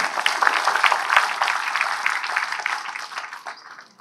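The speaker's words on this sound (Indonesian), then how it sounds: "Kita tepuk tangan untuk kita semua teman-teman." Applause from a gathered audience at a Kenduri Cinta community meeting, a dense crowd of clapping that holds steady and then slowly fades out over a few seconds.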